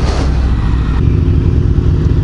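A 2014 Yamaha MT-09 motorcycle exhaust while riding, a loud rough low rumble with a brief rising note at the start, continuous and close.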